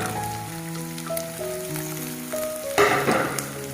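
Chopped onions frying in a pan for Kerala-style fish curry give a steady close sizzle with light crackle throughout, turning louder and brighter near the end, under faint background tones.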